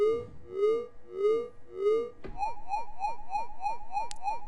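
A buzzy Reese bass synth tone made in Ableton, with a slow, wobbling swell that suddenly speeds into a faster pulsing throb; electronic and sustained, no voices.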